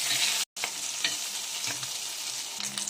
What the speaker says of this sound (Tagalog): ilalagay na po natin yung bawang. Tapos, ilagay na rin po natin yung sibuyas